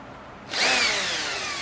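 A power drill boring screw holes in wood for a reptile hide, starting abruptly and holding a loud, steady whine close to the mic, with no speech.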